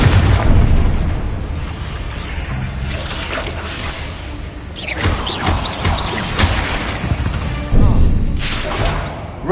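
Confringo spells exploding repeatedly in the Hogwarts Legacy video game: several loud booming blasts and bursts with crackling debris, spread over a busy stretch of combat noise, close, with brief speech mixed in.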